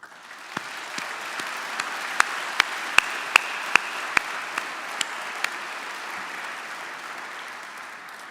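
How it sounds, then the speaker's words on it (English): Applause at a dental school commencement ceremony, a steady wash of clapping from a large, fairly distant crowd, with a few sharp nearby claps punctuating the first half before it settles into an even roar. "Let's applaud your support."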